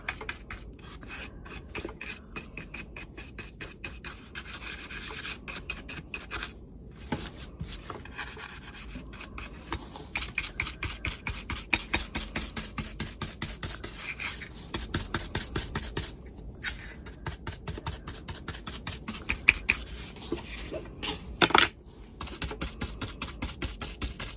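Brown finishing wax is rubbed onto a wooden dough bowl, producing close, rapid rhythmic rubbing and rasping strokes that run continuously, with brief pauses between bursts.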